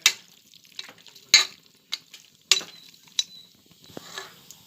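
Country chicken pieces being stirred and fried in a pan, with intermittent scraping spatula strokes and clinks against the metal over a soft sizzle, close and without speech.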